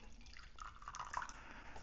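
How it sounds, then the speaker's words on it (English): Water drips into a light-roast Ugandan coffee pour-over brew, faint scattered drips and a soft trickle in a quiet room. "now let's try it on a pour over"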